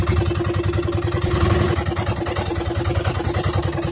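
A handline fishing boat's engine idles while warming up, a close, loud, steady mechanical throb with a regular pulsing beat and some clatter, running unbroken throughout.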